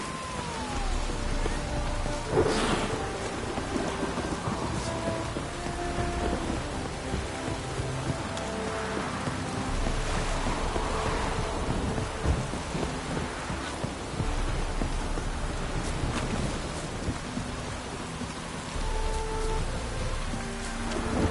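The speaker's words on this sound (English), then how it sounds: "Storm, damn it." Steady rain pours without pause in The Witcher 3: Wild Hunt, heard from inside barracks, with low thunder rumbling now and then beneath the constant hiss of the downpour and no voices.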